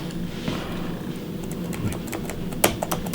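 Fingers tap at a Toshiba laptop keyboard with sticking keys, an irregular run of light clicks building to a few sharper, louder strikes near the end, close up against a faint room hum.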